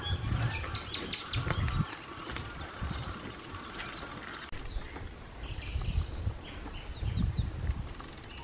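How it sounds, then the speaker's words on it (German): Birdsong that fits nightingales rings out along a cycling route near Otzberg in the Odenwald: repeated short chirps and trills at moderate distance over a steady outdoor background, with no talking. "und auch hier sind die Nachtigallen"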